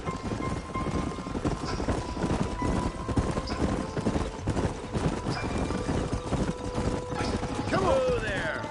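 Horses trot in Red Dead Redemption, a steady rhythmic clip-clop of several hooves close by that runs the whole time under voices and background game sound.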